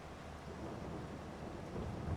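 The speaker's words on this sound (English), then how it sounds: "Uh-oh, it's raining." Rain and thunder in the Farming Simulator 22 video game: a steady broadband wash of rainfall with a low rumbling underneath that swells slightly near the end, with no talking.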